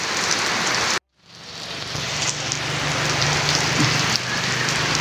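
Steady rain falls in sunshine, pattering on surfaces close by, a dense hiss of drops that briefly cuts out, then returns and continues evenly.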